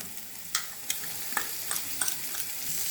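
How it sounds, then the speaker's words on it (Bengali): A spice mix stirring and frying in a pan, a soft steady sizzle broken by sharp clinks and scrapes of the spoon against the metal, close and with no talk. "এবার সব কিছুকে খুব ভালো মতো একটু নাড়াচাড়া করে নেবো"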